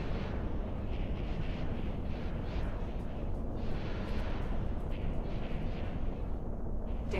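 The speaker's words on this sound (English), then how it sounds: "Incoming missile." Missile explosions in the space video game X4 form a heavy, continuous rumble with scattered bursts and crackles, loud and sustained, with no talk.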